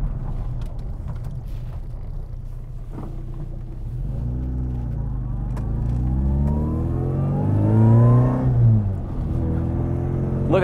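A classic Mini with a remastered build pulls away, its engine note rising through the revs, dropping briefly at a gear change and climbing again to a loud peak, heard from inside the car with no talk.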